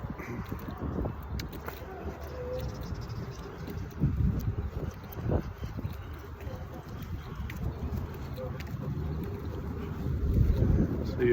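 Chilly winter wind outdoors at a dog show venue buffets the microphone as a continuous low rumble with gusts swelling toward the end, with faint muffled voices.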